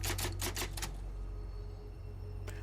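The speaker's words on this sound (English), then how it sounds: "So I'm going to clickety-clack on this typewriter." Typewriter keys clacking in the video game Resident Evil 4 Remake: a quick burst of about seven loud, close strikes in the first second, a quiet pause, then one more key hit near the end, over a steady low hum.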